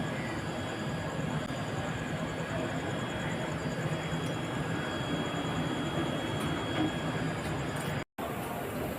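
A passenger train, the Raxaul Express, rolls into Barddhaman Junction alongside, a steady loud rumble of wheels and carriages heard up close from a neighbouring train at the station, with a momentary cut near the end.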